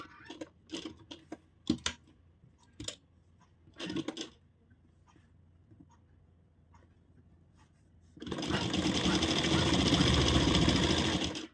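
A sewing machine stitching a blouse: scattered clicks and taps of handling the fabric, then a loud, steady, close whirring run of stitching for the last few seconds, with no talking.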